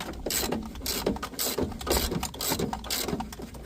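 Ratchet wrench loosening the 15mm bottom-corner dash bolts on a 1996 Jeep Cherokee XJ, a fast run of dense metallic clicks in quick repeated bursts, close and fairly loud, with no talking.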